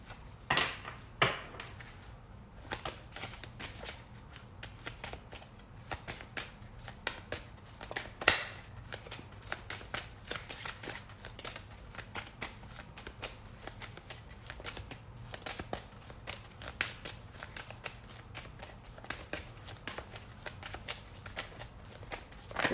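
Tarot cards are shuffled near the listener for a long stretch, with repeated riffling and soft slaps of the deck in a busy rhythm.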